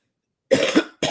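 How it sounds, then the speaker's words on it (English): A woman coughs twice, short and close, the first burst a harsh double hack followed by a brief pause and a second cough cut off at the end. "I'm trying to stop coughing, but it hasn't worked yet."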